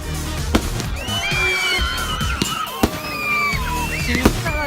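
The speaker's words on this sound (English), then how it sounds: "At least they're making a bang, though, these ones." Bonfire Night fireworks bang in several sharp reports, with whistling and crackling bursts between them over a steady outdoor crowd murmur.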